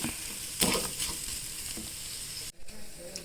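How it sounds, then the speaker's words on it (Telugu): Okra frying in a pan for a peanut bhindi dish, a soft, steady sizzle with a few stirring scrapes, one louder clatter, and a brief cut near the end. "లేదంటే ఒక వన్ మినిట్ ఇలాగే వేయించేసుకున్నా సరిపోతాయి"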